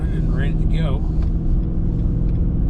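A 2021 Nissan Titan Pro-4X crew cab pickup in tow/haul mode pulls a loaded trailer, giving a steady low engine and road rumble throughout, with some background talk and faint higher whines on top.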